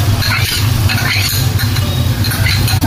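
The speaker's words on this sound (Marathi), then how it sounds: "हे आपलं तेल तापलं तर आपण कांदा टाकूया।" Chopped onions dropped into hot oil in a home kitchen pan while cooking karandi, giving a steady, loud sizzle and crackle with low rumble throughout, no voices.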